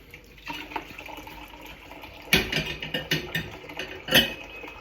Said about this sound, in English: the hot water pours in there.